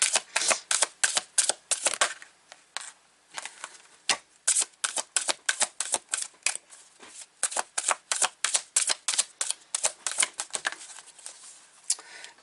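A deck of tarot cards is shuffled repeatedly, with bursts of rapid crisp riffling flutters broken by short pauses, close and fairly loud with no talking.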